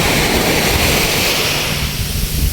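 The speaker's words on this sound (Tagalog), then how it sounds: "Kasi yung alon, ganyan lang yung alon eh." Ocean waves wash onto a white sand beach, a steady, loud broadband rush of surf with no break and no voices over it.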